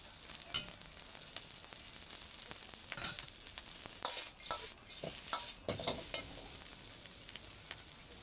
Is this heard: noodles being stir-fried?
yes